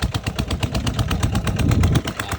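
Hand tractor engine rotavating a rice field, a loud, steady chugging drone with rapid rhythmic pulses throughout, close by, with no talk.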